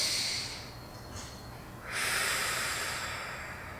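Deep breathing during a leg stretch held in an upside-down splits position, a long airy exhale, a pause, then a strong close inhale-exhale hiss, no talk.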